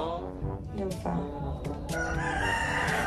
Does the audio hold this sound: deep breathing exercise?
no